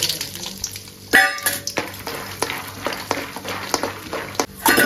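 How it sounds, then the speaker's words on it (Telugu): Chickpeas fry in a little oil with curry leaves and coriander, a light crackling sizzle broken by sharp clinks and scrapes of a utensil against the pan, close by and fairly busy. "శనగగింజలు కొంచెం ఫ్రై అయింది"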